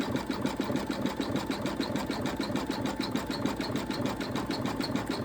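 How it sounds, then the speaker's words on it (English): An embroidery machine stitches an Easter bunny appliqué in a fast, even mechanical chatter, with a rhythmic rubbing as the hoop scrapes the machine base, close and steady throughout. "I really think it's the hoop rubbing against the base of the machine"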